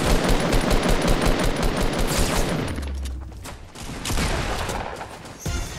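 Minigun fire in the video game Fortnite rips out as a loud, continuous rapid stream of shots that stutters and pauses midway, then resumes, with no voices over it.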